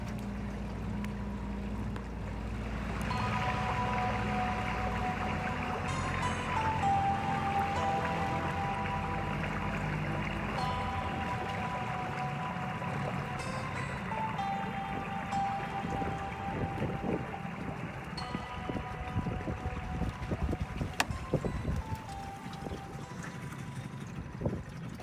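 A boat motors across Red Lake on a first outing of the season, with a steady engine drone, water wash and wind buffeting the microphone throughout, fairly faint and unbroken.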